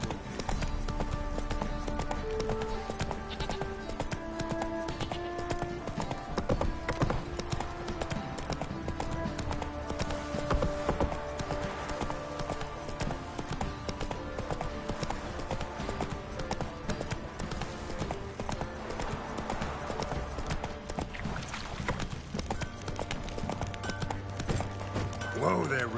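Roach the horse's hooves clip-clop steadily through the whole stretch in The Witcher video game, a continuous rhythmic gait close up, with game dialogue and music running over it.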